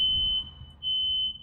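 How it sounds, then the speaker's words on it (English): A fire alarm goes off indoors, a loud, shrill electronic beep sounding in two steady tones split by a short pause, with no talk over it. "Okay, that was the fire alarm."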